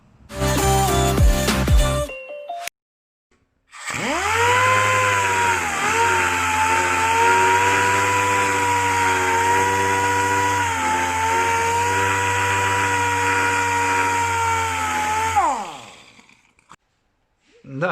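A power sander works the paint on a Yamaha R1 5JJ motorcycle fairing, whirring steadily and loudly for about twelve seconds with a slight pitch dip as it bears down, after a brief burst of other noise and a pause.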